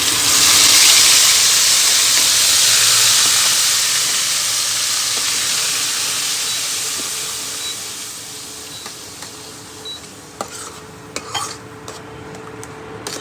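Tomato, onion and garlic paste hits hot oil for tempering, a loud hissing sizzle that gradually fades to a quieter simmer, with a few faint utensil clinks toward the end.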